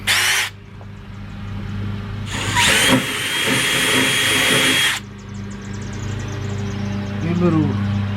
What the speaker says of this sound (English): you want to use a 1/4 drill bit. I need to open that hole up.